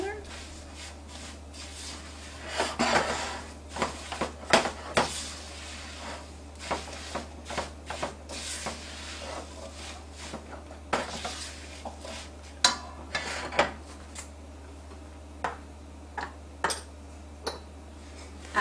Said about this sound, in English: Now I'm going to add 1/4 cup of sugar, a 1/2 cup of brown sugar. I'm going to mix those together.